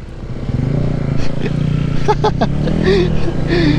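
A Honda ADV 160 scooter-style motorcycle hums steadily while riding along a loop road on Polillo Island, with a constant close engine drone and wind under casual conversation between riders.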